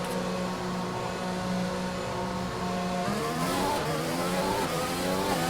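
Formula 1 race car engines from the game F1 2021 roar continuously, several cars' harmonic whines rising and shifting in pitch as they accelerate past, loud and steady throughout with no talk.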